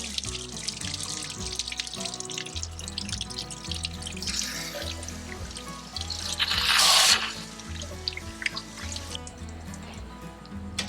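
Water flushing out of an RV water heater tank to clear sediment, rust and calcium: a steady rushing stream with dripping and splashing, surging louder for a moment near the end before settling back, under a repeating low background hum.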